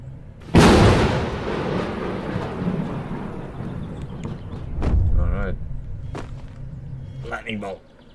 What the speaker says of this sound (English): Range spells. Lightning bolt.